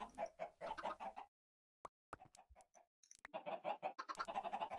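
Game chickens clucking in Minecraft Feed the Beast, bursts of repeated clucks, close and clear, broken by a short pause with a few isolated clicks.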